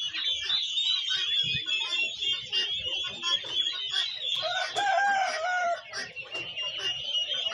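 Many black chickens cluck and chatter together nearby, a busy continuous flock sound with sharper calls rising above the steady clucking.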